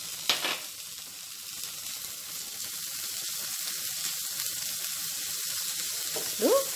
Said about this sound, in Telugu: ఇప్పుడు ఇవన్నీ కూడా లైట్గా ఫ్రై చేసుకోవాలి.